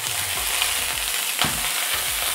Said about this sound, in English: Now we're gonna put the eggs into the pan.